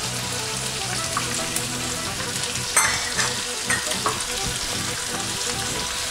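Celery and pre-cooked carrots with peppers sauté in a hot pan, a dense continuous sizzle and crackle with occasional scraping stirs, close and steady throughout, no voices.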